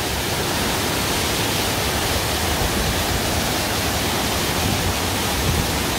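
Mujoochae Waterfall, a 50 m fall between Gyeonchisan and Mindungsan in Gapyeong, roars as a continuous dense broadband wash of falling water, loud and unbroken.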